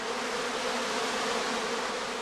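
Swarming honey bees at a heather skep apiary, a steady dense hum with no break, moderately loud and close, sounding restless.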